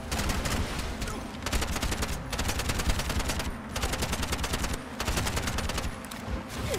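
Rapid sustained automatic gunfire from a first-person shooter game on Nintendo Switch, a dense run of bursts broken by short pauses, loud and close with no talking.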